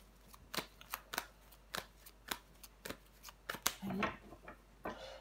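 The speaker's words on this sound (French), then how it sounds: "Mais on va recouvrir des cartes." Tarot cards handled and drawn, a string of crisp close card snaps and flicks in an uneven rhythm, with faint soft voice in the background.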